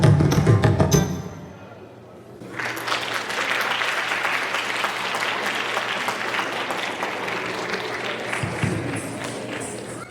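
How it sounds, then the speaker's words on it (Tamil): Audience applause at a children's day school event, a broad, steady wash of clapping that swells after a brief lull and carries on for several seconds, with a voice speaking briefly at the start. "சூப்பராக கைத்தட்டிடலாம் அவங்களுக்காக."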